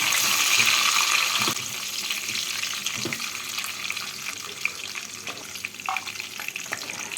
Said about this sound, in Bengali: তেল আর ঘিটাকে গরম করে এর মধ্যে কাজু আর কিশমিশগুলোকে ভেজে তুলে নেব